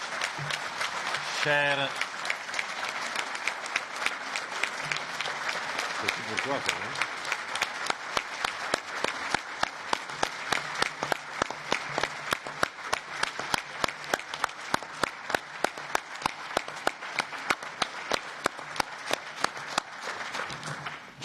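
Applause at a European Economic and Social Committee plenary session on Brexit, with a large audience clapping steadily for Michel Barnier; it settles into loud, rhythmic unison clapping toward the end, with a brief voice heard early on.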